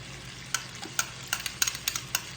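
Onions and garlic tossed into a hot pan with shrimp and salmon nearby: a faint sizzle beneath a quiet run of close stirring taps and scrapes, with no talking.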